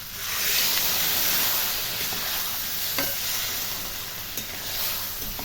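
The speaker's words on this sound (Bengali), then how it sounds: "এবার আমি এতে অল্প পরিমাণে জল দিয়ে দিচ্ছি।" Vegetables for shukto cook in a pan after a little water is added, giving a steady broad sizzle and hiss with a few soft stirring clicks, close and continuous with no talk.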